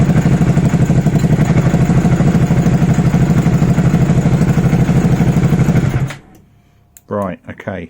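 An engine rattles at idle with the clutch out, a loud, steady clattering chug that runs for about six seconds before it cuts off, followed by brief speech.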